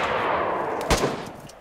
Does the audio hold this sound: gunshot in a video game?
yes